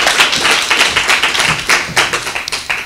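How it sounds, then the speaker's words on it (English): Loud, close audience clapping greets the author of the book as she walks up at a book launch in Durban, brisk uneven bursts of many hands that swell and dip over a few seconds. "if we can just give her a round of applause as she makes her way"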